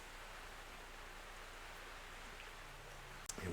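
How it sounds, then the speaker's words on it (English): Steady rain falling outdoors, a faint continuous hiss of drops with no breaks, distant and even, ending in a brief sharp knock. "And we got the rain coming."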